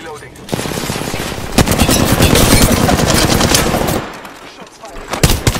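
Rapid automatic gunfire in the video game Apex Legends, loud sustained bursts of close shots rattling for several seconds, then stopping with a few scattered pops.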